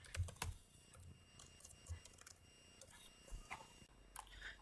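Keys clatter on a computer keyboard during command-line work, with quiet, irregular clusters of clicks and short pauses in a still room.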